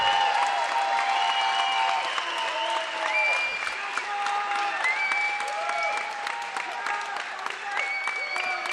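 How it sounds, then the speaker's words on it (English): Sustained applause and cheering from an arena crowd at the end of a women's MMA bout, loud and steady throughout with no break. "How about a big round of applause?"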